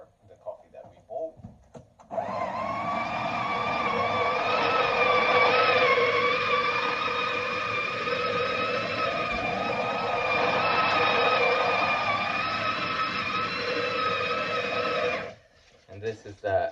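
An electric coffee grinder set to grind size 13 grinds coffee beans in one loud, steady whirring run of about 13 seconds, with brief handling sounds before and after.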